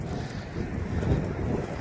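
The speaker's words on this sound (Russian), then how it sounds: "Немножко ветрено на улице" Gusty wind buffets the microphone with low rumbling noise throughout, outdoors in Golden Valley, Minnesota, no voices present.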